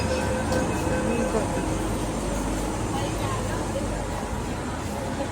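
Delhi Metro train at Sarojini Nagar station, a steady loud rumble and rolling hum of the carriage running on the rails, continuous throughout with a faint murmur of people in the background.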